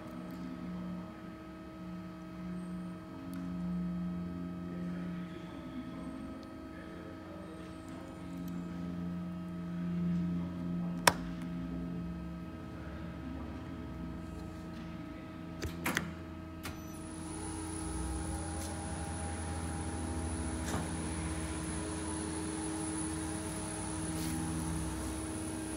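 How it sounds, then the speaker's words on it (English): An Everising S 6235HAA machine running a job automatically gives off a steady mechanical drone with tonal hums and a constant whir, broken by a few sharp clanks, and turns brighter partway through. "Now we're going to run the job so you can actually see how the machine works."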